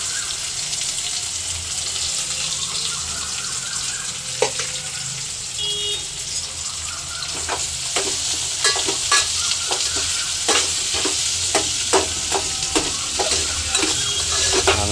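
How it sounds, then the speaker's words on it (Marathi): Chopped onions frying in hot oil in a pan for a mutton dish, a steady loud sizzle throughout with a run of quick scraping stirs and clacks of the spatula growing busier toward the end, no voices. "चांगला लाल तांबूस होईपर्यंत ढवळत राहायचा, भाजत राहायचं आहे, परतून घ्यायचा."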